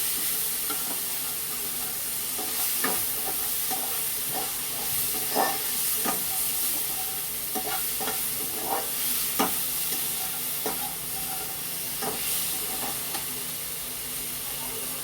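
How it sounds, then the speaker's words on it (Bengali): Onions with meat stirred and frying in a pan during home cooking, a steady loud sizzle with repeated scraping stir strokes every second or so, no talking. "এদিকে মাংসের পেঁয়াজটাকে একটু নাড়াচাড়া করেই দিই।"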